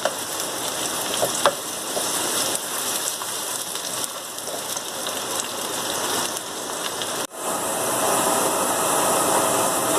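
Chopped onions frying in a pan, a loud, continuous crackling sizzle like heavy rain that drops out for a moment and then returns slightly louder.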